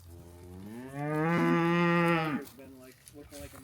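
A farm cow on a homestead gives one long, loud, close moo lasting over a second, with quieter rustling and faint background sounds before and after.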